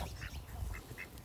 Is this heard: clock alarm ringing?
no